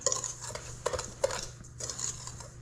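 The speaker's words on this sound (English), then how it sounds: "I'm going to get a little whisk, this guy, just to kind of blend all those flavors" A small whisk working through Sicilian orange cake batter of sugar, flour, leavening and citrus zest in a bowl, giving close, quiet, irregular metallic clinks and scrapes against the bowl.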